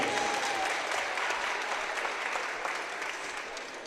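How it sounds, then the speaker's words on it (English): A gym crowd applauds at a girls' high school basketball game, steady clapping for a few seconds that gradually fades, with a brief tone near the start. "Let's have a round of applause for our fourth grade Little Lady Panthers."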